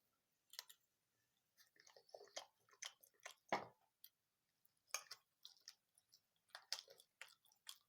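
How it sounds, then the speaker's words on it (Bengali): Someone eats pasta at night with soft, close, irregular chewing and small squishy bites, scattered across a quiet background. "পাস্তা খাচ্ছি এখন রাত্রেবেলা"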